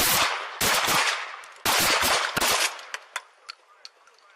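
A rapid volley of police gunshots fired by Salt Lake City officers at an unarmed man, caught on a body camera: several loud, dense bursts, then sharp single shots spaced out and trailing off.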